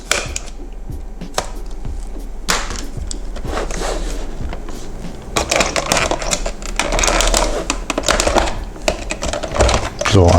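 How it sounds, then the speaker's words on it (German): The plastic housing of a 2000 VW T4, Golf 4 or Bora instrument cluster is pried open, giving dense, ratcheting plastic clicks and snaps up close, with a voice partly audible alongside. "Dann entriegeln wir das Gehäuse, hebeln hier und dort."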